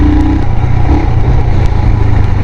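A 2020 Royal Enfield Himalayan BS6 motorcycle pulls away and accelerates, a steady, loud single-cylinder drone that holds up close throughout with no talk over it.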